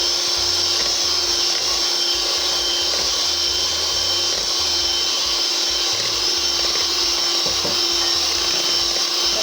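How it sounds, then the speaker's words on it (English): Egg whites beaten with sugar for a Black Forest cake, heard as a continuous loud whirring drone of a mixer with a faint rhythmic knocking underneath, steady throughout with no talking. "Add it bit by bit and beat your egg white until it becomes fluffy."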